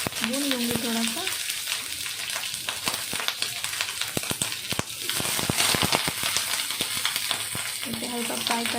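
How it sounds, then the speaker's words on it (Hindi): Cauliflower fries in mustard oil in a home kitchen pan, a continuous busy sizzle crackling with sharp pops and spatters, stirred now and then, with a soft whistle-like tone at the start and end. "और पहले मैं फ्लावर को भून लूँगी थोड़ा सा।"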